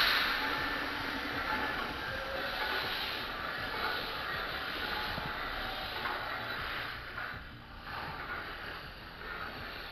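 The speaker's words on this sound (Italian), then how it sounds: "Scusate la moto di fuori." A motorbike passes outside an open window, a steady, fairly loud broadband engine roar that fills the clip and eases slightly toward the end, with no talk over it.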